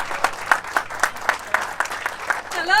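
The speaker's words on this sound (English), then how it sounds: "Please give her a round of applause." A smaller audience at a Yonkers community event claps for a first district councilwoman, a sparse run of distinct, rhythmic claps, moderately loud, with a voice starting up at the very end.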